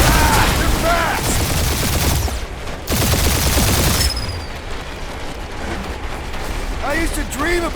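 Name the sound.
turret gunfire in Guardians of the Galaxy video game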